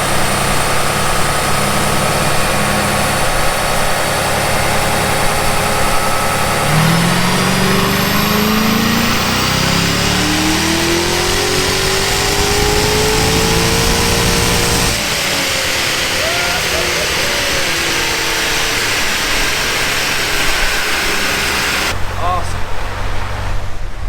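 A Chevrolet Corvette C6 Z06 roars continuously on a chassis dyno during a baseline pull, its engine climbing in pitch, with a loud fan running and people talking over the din.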